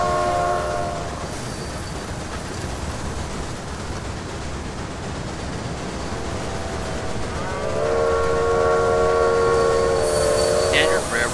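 Steam locomotive from the Railway Empire game rumbling steadily along with a continuous loud roar, tonal whistle-like harmonics sounding near the start and again toward the end.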